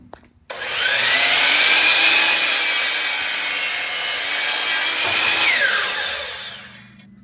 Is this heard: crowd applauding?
no